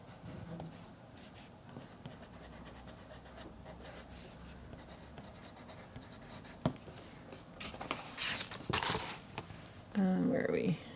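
A Japanese-made Camel rainbow colored pencil is swatched across paper in soft, continuous scratchy strokes that grow louder toward the end, with a person talking over it.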